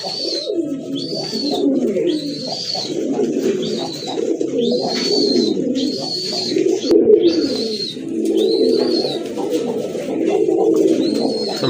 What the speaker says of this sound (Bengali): মাশাআল্লাহ দেখেন এক জোড়া জ্যাকোবিন কবুতর